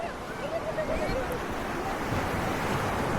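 Waves breaking on Tarkarli beach, a continuous wash of surf with wind buffeting the microphone and a voice faintly present.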